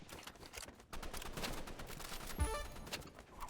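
Gunfire in Roblox Rivals comes as a faint, dense rattle of rapid shots with a slightly stronger burst in the middle, low in the mix of game sound.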